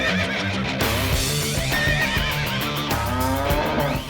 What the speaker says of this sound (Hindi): वज़ीर आज़म मियां मोहम्मद नवाज शरीफ ने कतरी अमीर को आला नस्ल का घोड़ा तोहफे में भेज दिया